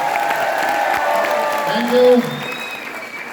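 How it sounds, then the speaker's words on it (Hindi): Loud applause from an audience at a Hindi-language diamond-business gathering, steady dense clapping through most of the clip while someone speaks over it. "मैं चाहूंगा सर के लिए अब तक की सबसे जोरदार तालियां देने दो"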